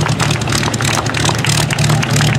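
Vintage aircraft propeller engines run at 2000 RPM at an air show, a loud, close, throbbing low rumble with a steady pulsing beat.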